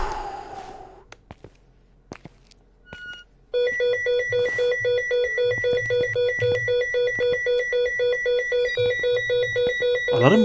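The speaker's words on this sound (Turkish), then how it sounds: "Alarm mı çalıyor?" A repeating electronic alarm rings loudly and steadily in a horror-themed video game set in a house at night, beeping in an even pulsing pattern after a few quieter knocks and clicks.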